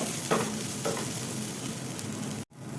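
Grated coconut crackles and sizzles steadily as it roasts in a hot pan, with faint stirring scrapes, before cutting off abruptly near the end.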